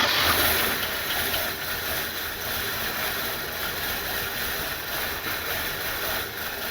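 A Ford Fairmont engine, revived after sitting in a shipping container, running with a steady loud mechanical clatter and roar throughout, close by and with no talking.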